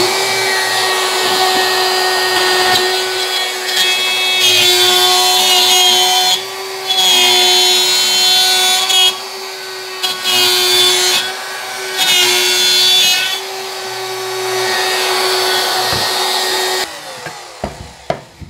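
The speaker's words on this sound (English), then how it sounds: "I've got the router jig set for 2 1/4 inch diameter circle" A router in a benchtop router table cuts a 2 1/4 inch circle on a circle jig, a loud, high motor whine with surging bursts as the bit bites, then spinning down with a few knocks.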